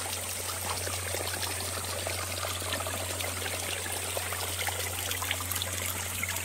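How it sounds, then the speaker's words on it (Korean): A small waterfall pours into a mountain stream, a steady close rush of splashing and trickling water with no pauses and no voices. "폭포와 개울이 함께 흐르고 있습니다."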